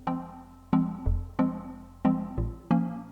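Two layered synth plucks, one carrying bass notes and a duplicate without them, play together in a reggaeton beat: short bright plucked chords in a syncopated rhythm with deep low hits between, clear and alone.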